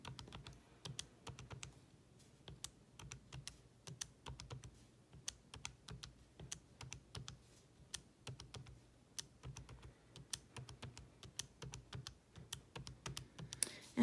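Rapid, steady keypresses on a graphing calculator keypad as data values are entered, a dense run of small sharp clicks close up, with no talking.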